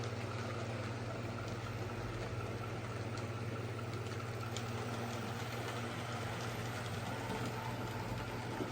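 Steam locomotive Dover running tender first and hauling a rake of Southern coaches, heard as a steady, low rumbling drone at a moderate distance without much variation.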